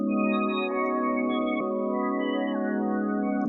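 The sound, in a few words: warbly underwater synth pad with halftime and spectral gate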